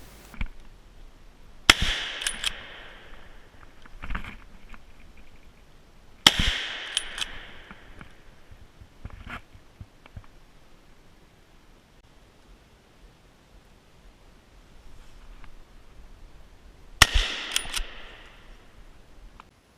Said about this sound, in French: On continue avec le tir d'une chevrette qui sera manquée